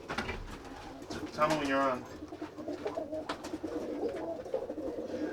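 Pigeons in a loft coo in a low, throaty burst near the middle, with softer bird sounds around it while someone speaks briefly over the scene.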